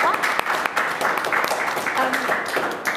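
Audience clapping steadily at a panel discussion event at Imperial College's Forum, a dense, continuous wash of hands filling the whole stretch at close range with no clear gaps.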